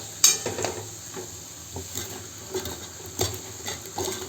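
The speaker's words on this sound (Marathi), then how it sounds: "आणि 1 ते 2 मिनिटं छान याला परतून घ्यायचं आहे" Cauliflower, pea and potato vegetable with red chili powder being stirred and sautéed in a pan, a soft sizzle under intermittent scraping and clinks of a spoon against the pan.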